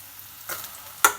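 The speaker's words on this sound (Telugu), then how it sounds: "తాలింపులు వేసి ఒక్క రౌండ్ అయితే తిప్పేయండి" Tempering spices hit hot oil for Andhra-style gongura pachadi, giving two short, quiet bursts of sizzling and crackle, the second sharper than the first, in an otherwise quiet kitchen.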